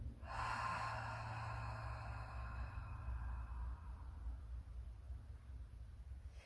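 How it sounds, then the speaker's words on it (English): A slow, deep breath drawn in and let out during a gentle yoga session, soft and airy, heard close and alone over a steady low hum. "Take a nice deep breath in. Exhale and let go."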